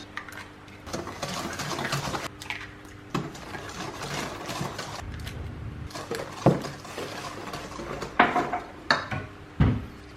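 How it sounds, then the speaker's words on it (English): Eggs for a carrot cake batter being whisked by hand in a bowl make bursts of clattering, scraping strokes of uneven loudness, with sharper knocks against the bowl toward the end. "So now we're going to whisk. We're going to add in 4 eggs, one at a time."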